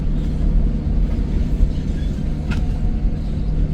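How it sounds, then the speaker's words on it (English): Low, steady rumble of a passing freight train led by an SD9 locomotive near a CN yard in Green Bay, a continuous heavy roar with faint rattling, moderately close and uninterrupted. "I like the sound of the train next to us too."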